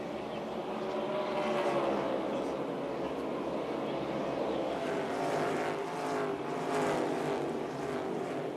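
NASCAR Cup race cars roar around North Wilkesboro Speedway in a continuous loud engine drone with rising and falling passes, as race commentary runs over it.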